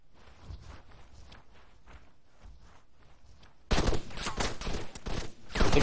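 Gunfire from an ambush in the video game Arma 3: quiet scattered distant shots and footsteps at first, then a sudden louder burst of rapid fusillade and machine-gun fire that continues to the end.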